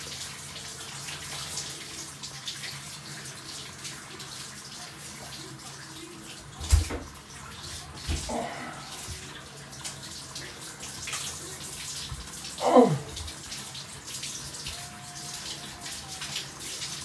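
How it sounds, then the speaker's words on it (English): Hot water runs steadily from a tap into a basin, a soft continuous rushing with a few louder splashes and knocks along the way. "Too much hot water."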